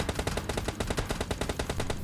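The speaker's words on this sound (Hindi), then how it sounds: "यहीं कैसे गोली की आवाज़ आई है।" Rapid automatic gunfire from the video game PUBG Lite: a fast, unbroken stream of loud, evenly paced shots with no voices.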